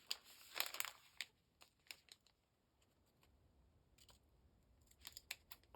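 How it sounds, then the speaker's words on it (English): Scissors snip through page protector plastic in a series of short, crisp cuts with crinkling between them, close and quiet, with bursts at the start and near the end. "Just cut them out."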